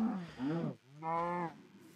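Two drawn-out moos from a Minecraft cow, close and loud, one after another with a short gap between them and no talk.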